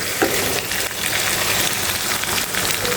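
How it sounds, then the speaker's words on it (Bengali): Masala for a roast made with poultry chicken fries on a low flame, a steady close crackling sizzle with faint stirring scrapes, no talk. "আমি কম জাল দিয়ে আরও কিছুক্ষণ আমি সুন্দর করে কষিয়ে নেব"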